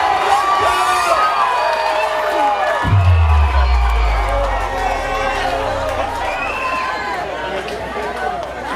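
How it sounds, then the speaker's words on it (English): A crowd at a party anniversary event cheers, whoops and claps for a speaker, a loud continuous roar of voices with shouting over it and a deep rumbling thud partway through. "join with me in giving His Excellency a resounding round of applause"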